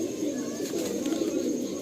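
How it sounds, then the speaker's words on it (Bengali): Soft, low pigeon coos repeat steadily and close by in a pigeon loft, forming a continuous murmuring hum with no talking. "দেখুন এটা ছাপকা পায়রা।"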